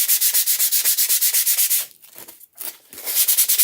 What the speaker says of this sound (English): We will give it a good sanding